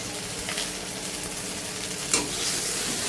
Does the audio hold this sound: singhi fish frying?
yes